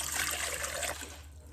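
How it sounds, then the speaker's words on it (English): Two cups of lukewarm water pour steadily into a bowl for sandwich bread dough with a bright, splashing trickle, close up, then taper off quickly as the pour ends. "add 2 cups of lukewarm water into our bowl."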